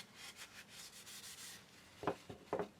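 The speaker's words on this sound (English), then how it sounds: "I use a cloth to add a decent amount of Danish oil all around the box, and then I'll wipe off any excess to stop any pooling." A cloth wipes Danish oil over a walnut box, giving soft, faint rubbing strokes in a gentle rhythm, then two brief sharper scuffs near the end.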